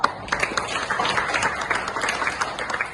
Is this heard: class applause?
yes